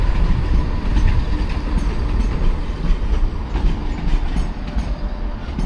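Rail noise fills a large station concourse at Sheffield, with a steady low rumble and wagon clatter from a train, likely East Midlands Railway, continuing throughout without talk.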